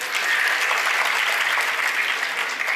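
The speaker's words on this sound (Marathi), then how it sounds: "आपण सगळ्यांनी त्यांच्यासाठी टाळ्या वाजवाव्या." An audience at a school's grand annual gathering claps for grandparents, dense sustained applause from a large crowd, loud and even for the whole stretch.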